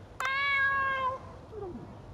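A cartoonish cat meows once in the video game Dave the Diver, a clear, drawn-out call followed by a softer, falling second mew.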